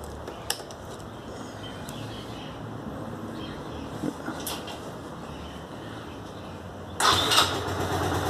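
A Suzuki Intruder 125 (2010) small cruiser motorcycle engine is started with a brief crank and settles into a low idle, joined near the end by a louder burst of revving.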